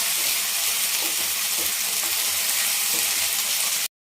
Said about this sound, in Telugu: బాగా అల్లం వెల్లుల్లి పేస్ట్ పచ్చి వాసన పోయిందాక వేసుకోవాలి